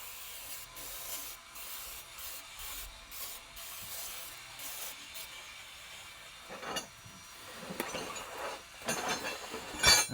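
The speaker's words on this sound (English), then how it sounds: "Little bit of brake cleaner." Brake cleaner sprays onto a brake disc in short and longer hissing bursts, close up, alongside some rubbing and faint clinks.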